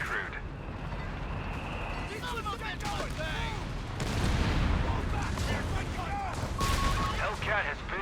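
Dense gunfire and booming artillery in the real-time strategy game Company of Heroes 3, a continuous loud battle with sharp cracks, bursts and heavy blasts, while game voices speak over the din.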